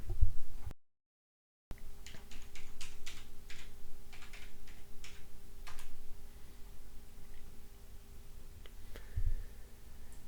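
Typing on a computer keyboard while setting up a hackintosh computer: quiet, close clusters of light key clicks in short bursts over a steady background hum, with one brief dropout near the start.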